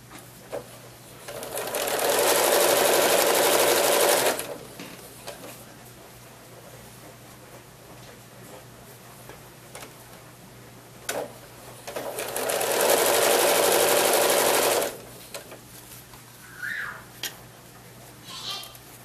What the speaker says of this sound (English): I'm using a 1/4 inch foot, so that gives me an exact 1/4 inch seam. And I'm going to do chain stitching.